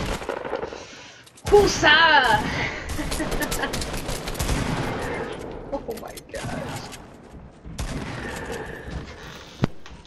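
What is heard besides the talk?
heavy shotgun shots in a video game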